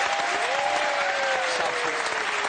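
A TV studio audience applauds Michel Drucker on a French variety show, loud, dense clapping filling the space, with a faint tonal line threading beneath.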